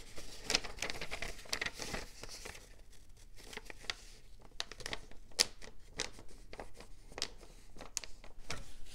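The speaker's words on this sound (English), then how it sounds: "let's go back and fold this and make sure we can get a good fold" Paper is folded and creased by hand while making pages, with soft close crinkles, scrapes and brisk swipes in an irregular rhythm, fairly quiet and with no talking.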